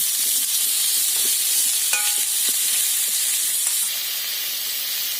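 Pieces of bottle gourd frying in hot oil in the pan used for the fish, a loud steady hissing sizzle with a few soft stirring taps, the hiss easing slightly near the end.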